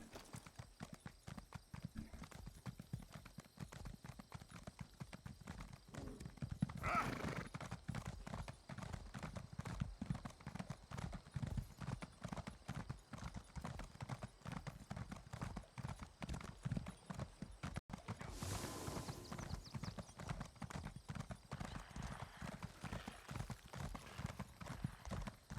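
Steady clip-clop of a riding steed's hooves in Elder Scrolls Online, continuous and close throughout, with a brief whinny-like swell partway through and no talking.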